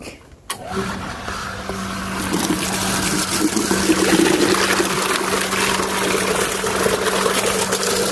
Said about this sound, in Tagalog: ang tawag dito ating motor tubig